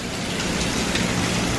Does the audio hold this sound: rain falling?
yes